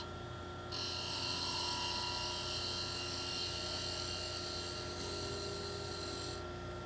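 A wood lathe spins a toy top blank as a spindle detail gouge rolls the corner over, giving a steady loud whirring drone with a high hissing cutting tone that holds for several seconds and stops near the end.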